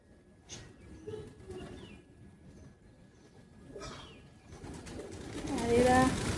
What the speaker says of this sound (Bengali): দেখেছো কতগুলো পায়রা এসেছে আজকে।